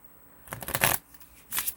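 Brand-new tarot cards, just out of their package, are riffled and shuffled by hand in two quick bursts of papery flutter, close and clear against a quiet room.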